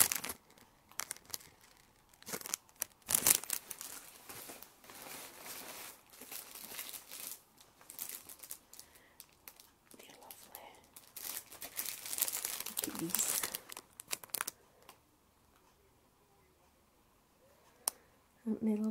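A plastic shopping bag crinkles and rustles in close, irregular bursts as items from a craft haul are unpacked, with quiet pauses between handlings and a soft voice talking now and then.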